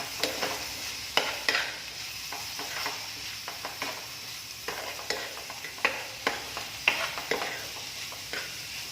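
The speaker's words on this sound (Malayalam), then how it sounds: "നന്നായിട്ട് ഇളക്കി കൊടുക്കാം" Chicken with garam masala frying and sizzling in a pan while a spoon stirs it, giving a steady soft sizzle punctuated by repeated scraping clacks of the utensil against the pan, close and fairly quiet.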